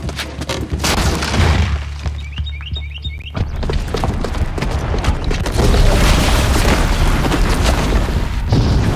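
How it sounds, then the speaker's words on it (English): A booby-trapped bomb detonating in Horizon Zero Dawn, a heavy booming explosion with rumbling debris and crackling bursts that continue loudly throughout, overlaid by game music tones. "the booby trap on the bomb downstairs is gonna get set off"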